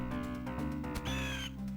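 Sega Mega Drive Lion King game: vultures caw in short, harsh synthesized bursts laid over looping chiptune music, loud and close.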